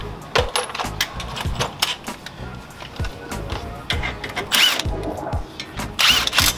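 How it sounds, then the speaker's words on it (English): A power tool buzzes in short, repeated bursts while fastening front brake hardware on a 2011 Toyota Corolla, close by, with clanks and rattles of metal parts between bursts. "As you can see, power tools, they come in clutch."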